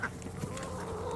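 Chickens on a small farm cluck softly at close range, a steady low murmur of fowl sounds with no talking over it.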